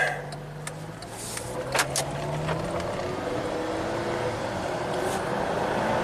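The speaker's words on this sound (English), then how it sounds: "Alright, first of all, we're gonna just rev it up." A turbocharged 2007 Acura RDX engine revs quietly from a little distance, a low hum that rises in pitch and settles, with faint clicks and rattles over it.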